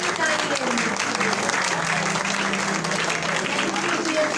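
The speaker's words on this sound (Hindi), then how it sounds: "तालियां बजती रहनी चाहिए।" An audience at a graphic design batch event applauds as a guest is called up, a loud continuous wash of clapping crowd noise lasting the whole few seconds, with voices blended into the din.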